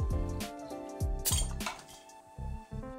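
A metal bottle opener clinks and taps against the cap of a small glass bottle in a handful of bright, ringing strikes, close and distinct, with short pauses between them.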